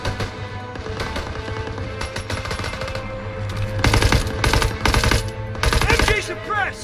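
Rapid machine gun fire from an MG pillbox in the World War II shooter Call of Duty WW2, loud repeated bursts over constant battle noise, growing heavier and denser toward the end.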